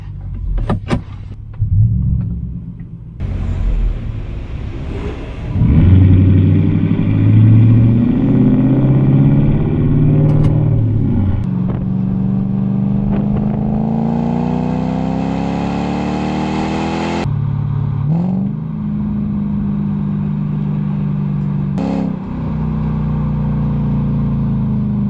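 A Lexus LS400 on a sighting lap of the International GP layout at Anglesey Circuit, its engine droning steadily, rising and falling in pitch through gear changes, loud and close for the whole stretch.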